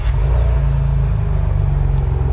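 A 2021 Ford Bronco First Edition with a Flowmaster Flow FX exhaust revs loudly and close by, a deep throaty rumble with a fast pulsing burble and no talk.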